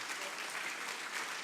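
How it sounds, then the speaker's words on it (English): A conference audience at a Rails talk gives a brief burst of full, even applause, a steady wash of many hands clapping at moderate distance with no break. "another round of applause for Andrew"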